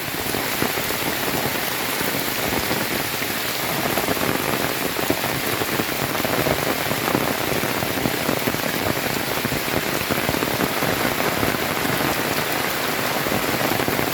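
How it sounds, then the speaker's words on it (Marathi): Torrential monsoon rain in the Konkan, falling through coconut palms near Rajapur: a dense, unrelenting wash of drops drumming on leaves and ground, loud and near, with no talking. "खतरनाक पाऊस पडतो, खतरनाक कोकणात."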